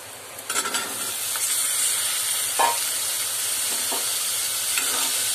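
Pumpkin dropped into a pan of frying onion and garlic for a Malvani-style pumpkin sabji, with a steady soft sizzle and hiss and a few brief clatters of stirring.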